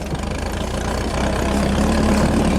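Off-road vehicle engine running steadily while driving across sand, a loud, continuous low rumble that swells slightly, no talk over it.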